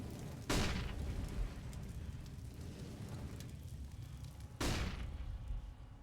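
Grenades going off in Counter-Strike on the Overpass map during an IEM Cologne 2023 match, two sharp loud blasts about four seconds apart, each trailing into a rumbling wash of game noise with no talk.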